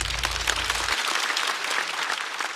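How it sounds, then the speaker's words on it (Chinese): A stand-up comedy audience applauding comedian Gao Han, dense sustained clapping from a large crowd, loud and even throughout, with a low hum dropping out after the first second. "再次掌声送给高寒"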